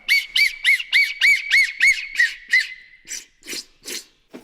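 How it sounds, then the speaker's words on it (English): An underwater whistle blown in a rapid series of about eight shrill, warbling squawks, near and loud, followed by several rougher, bubbly bursts as the blowing continues beneath the water. "a whistle in the water, it's a hell of a thing"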